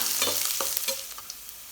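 Onions and dried red chillies sizzle steadily in hot oil in a pan, with a few soft stirring scrapes over the continuous frying hiss.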